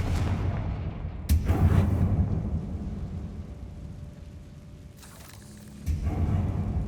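A Confringo fire curse explodes in the Hogwarts Legacy video game, a sharp crack followed by a deep rumbling boom, with a second blast burst later and low sustained roar between, no talking.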